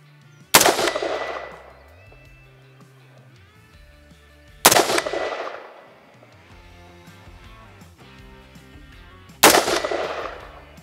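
Rifle fired while sighting it in: three loud, sharp shots spaced about four seconds apart, each ringing out and fading, with quiet background between them.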